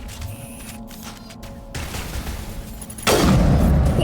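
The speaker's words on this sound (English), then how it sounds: "I definitely want the sniper for this." Gunfire in the Mass Effect video game as a sniper rifle fires, the shots loud and close, building to a heavy burst near the end with no talking over it.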